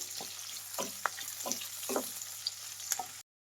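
Sliced onions, two medium ones cut lengthwise, fry in oil in a pan, a steady close sizzle broken by a few scraping stirs, with no talk.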